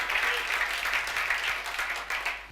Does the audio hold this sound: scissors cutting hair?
no